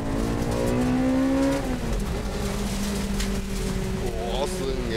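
A tuned Honda K20A engine running an HKS F-CON V Pro engine computer revs loudly and steadily, holds a high pitch, then drops and climbs again, with voices in the background.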